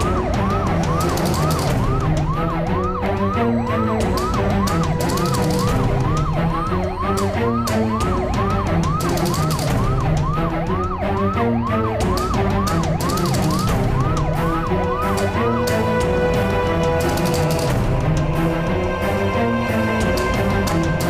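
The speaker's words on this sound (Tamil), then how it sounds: "அந்த ஆம்புலன்ஸ் நம்ம ஃபாலோ பண்ணி ஆகணும்." An ambulance siren wails continuously in a rising and falling cycle, loud and close, repeating steadily over traffic rumble before the wail drops away near the end.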